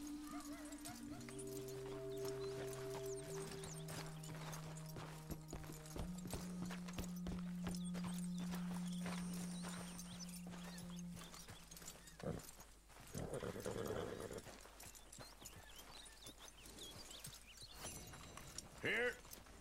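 Horse hooves clip-clopping and a whinny in the Red Dead Redemption 2 game world, steady hoofbeats under background music with a brief neigh, and people talking at times.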